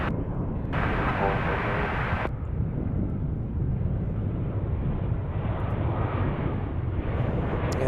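An Airbus A319 airliner at DFW airport drones as a steady, distant jet rumble, with broadband roar and brief wind buffeting over the microphone throughout.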